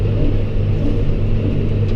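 A tractor engine runs steadily while baling, its low, continuous rumble increasing slightly in speed, close and constant without any talk.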